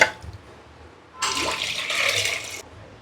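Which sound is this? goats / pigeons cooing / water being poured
water being poured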